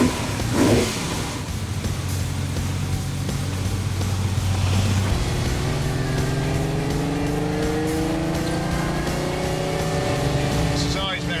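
A Ferrari sports car engine idles and then accelerates, its revving pitch climbing steadily through the gears, loud and close throughout.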